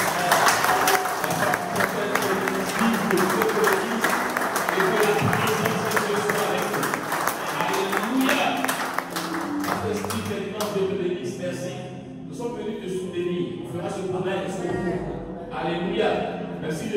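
A church congregation applauds and cheers, steady dense clapping mixed with voices and crowd noise throughout, loud and sustained, thinning slightly toward the end.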